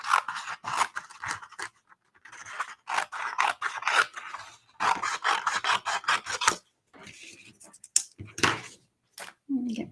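Scissors cut through card stock in a card-making session, with a run of crisp rhythmic snips and rasping slices in several bursts separated by short pauses.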